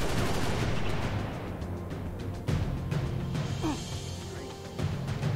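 Gunfire from the video game Halo Reach, running on a cursed mod, comes as dense repeated shots and bursts throughout, loud and continuous, with a few sharper reports standing out.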